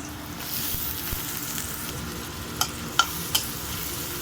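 Onions and green chillies fry in hot oil in a pan for egg puttu, producing a soft, steady sizzle with a few sharp stirring clicks toward the end.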